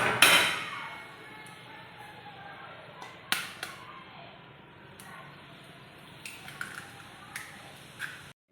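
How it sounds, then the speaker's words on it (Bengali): An egg is cracked against a bowl edge in a home kitchen, giving a sharp near crack at the start, followed by quieter taps, drips and faint handling clicks while a voice talks intermittently. "ডিমটাকে আমি ফাটিয়ে নিয়েছি।"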